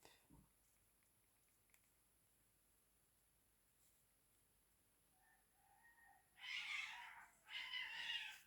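A pet cat gives a couple of loud, distressed cries close by, following a quieter stretch with faint background noise in a home setting.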